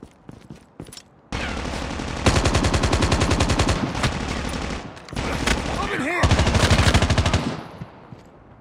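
Rapid automatic gunfire in Call of Duty Mobile Battle Royale comes in long, loud sustained bursts, close and dense. It breaks off briefly between volleys, and quieter shots are heard at the start.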